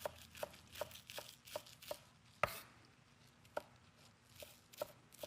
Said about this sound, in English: chop up some chives, as much or as little as you like